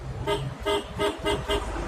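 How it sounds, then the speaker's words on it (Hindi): Car horn honking in repeated toots while overtaking a large dumper and a small truck on a road in Punjab, four or five short blasts in a steady rhythm over the low rumble of road traffic. "इसे थोड़ा हॉर्न मार के ही निकालो"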